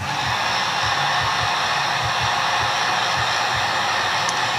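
A heat gun or hair dryer blows steadily and loudly up close, a constant airy roar with a low fluttering hum, used to heat vinyl wrap on the foam of a Ritewing Mini Drak model aircraft.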